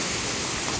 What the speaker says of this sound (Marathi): आणि इकडे बघा वॉटरफॉल छोटासा, मराठी धबधबा.